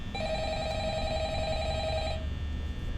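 A telephone rings in the Five Nights at Freddy's video game, one steady electronic ring lasting about two seconds, loud and alone over a low background hum.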